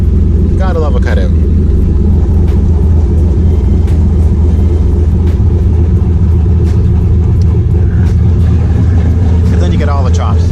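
A car with its exhaust cutout open rumbles loud and close, a deep, throaty idle holding steady throughout with brief blips, and voices speak faintly over it.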